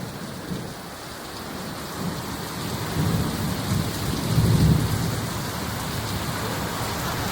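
An unseasonal downpour in Mangaon roars steadily while low thunder rumbles build and swell twice in the middle, the rain hiss staying loud and constant from start to finish.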